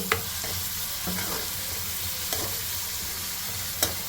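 Onion and green chillies frying with mustard seeds in hot oil for a drumstick tomato curry, a continuous close sizzle broken by a few sharp spoon scrapes against the pan, no talking.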